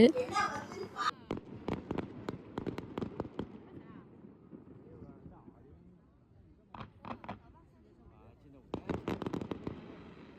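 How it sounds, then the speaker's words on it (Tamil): Firecrackers and fireworks crackle and pop in quick bursts at Chinese New Year celebrations in China, loud nearby volleys with a quieter gap midway, with people talking in the background. "இங்கிட்டு சைட்லலாம் வந்து நல்லா பட்டாசு போட்டு வெடிச்சிட்டுருந்தாங்க"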